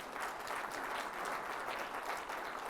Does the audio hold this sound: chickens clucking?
no